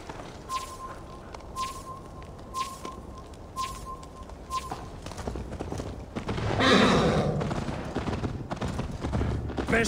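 Horse hooves clip-clopping at a gallop in the Viking-era game Assassin's Creed Valhalla, steady rhythmic beats with a high tone and a swelling rush of movement later, fairly quiet.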